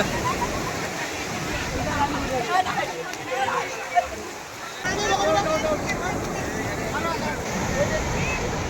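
Sea waves wash and splash along the beach at Puri during rain, a continuous sloshing surge that eases and then returns, with someone talking over it.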